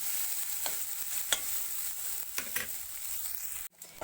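Crushed garlic and ginger, along with onion, sizzle in hot oil in a home kitchen pan. A steady broadband hiss is broken by a few sharp stirring scrapes. The sound cuts off abruptly near the end.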